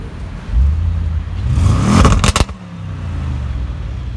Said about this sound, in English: that is the exhaust note of Audi RS7